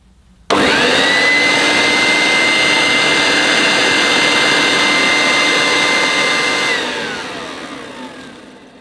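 A Vorwerk Kobold VK117 vacuum cleaner switches on abruptly and runs with a loud, steady high-pitched motor whine and airflow roar for several seconds, then begins to wind down as the pitch drops.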